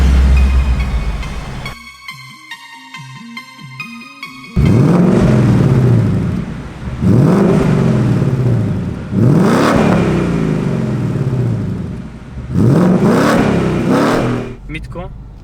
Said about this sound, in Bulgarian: нека сега да ви покажа сърцето на тази кола,